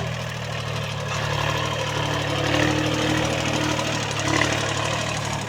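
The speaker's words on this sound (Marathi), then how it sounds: "कस काय ट्रॅक्टर चालतंय" A tractor engine runs steadily close by with a low rumbling throb and faint knocking, holding a constant level throughout.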